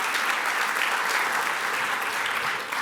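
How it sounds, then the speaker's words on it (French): A conference audience applauds at the opening of the Nice Climate Summit with steady, full clapping from a large crowd that holds an even level throughout. "Vous pouvez applaudir le Nice Climate Summit."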